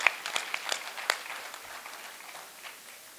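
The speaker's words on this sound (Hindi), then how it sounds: "तालियां बजाइए इनके लिए" Scattered applause from a gathering at a large spiritual convention, a few sharp claps up front that thin into light, quieter clapping as it fades.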